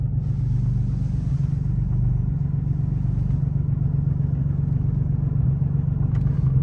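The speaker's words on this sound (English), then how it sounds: "I'm gonna fire the car up real quick." A car that has just been tuned with an EcuTek phone flash idles after starting, a steady, close, loud low rumble that stays even throughout, with no talking.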